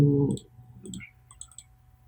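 A few sharp computer mouse clicks in quick succession while software is used, faint and close, following a brief low hum at the start.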